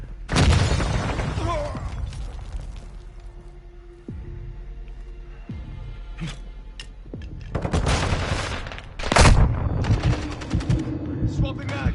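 Bursts of automatic gunfire and sharp shots in the video game Modern Warfare II, loud and close, with a heavy boom near the end and quieter stretches of game noise between volleys.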